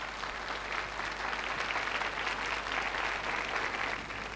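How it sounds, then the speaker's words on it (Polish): An audience applauds a band accompanying a singer in a 1997 television studio: steady, dense clapping that stays even and fairly loud throughout, with no voices over it. "Brawa dla zespołu!"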